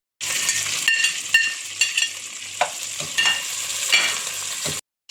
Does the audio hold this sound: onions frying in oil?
yes